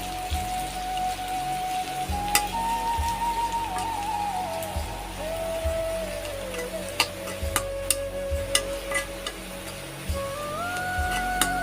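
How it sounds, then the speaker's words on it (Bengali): A pan of pointed gourd mash with salt stirred steadily, scraping and soft sizzling in a continuous layer with a few sharper clinks, no talking. "এখন এটাকে আমি নাড়াচাড়া করতে থাকবো।"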